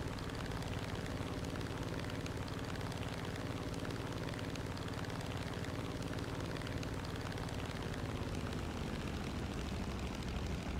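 Piston engine of an F4U-1a Corsair fighter in War Thunder, a steady loud drone held throughout at high speed during a low-level dogfight, with no talk over it.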